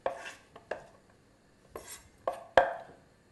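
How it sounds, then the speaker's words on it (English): A knife slices through an onion on a cutting board in separate crisp taps, about five or six cuts spaced unevenly, close and fairly quiet with nothing else heard. "keep the tip of the knife on the board and just gently cut through the onion"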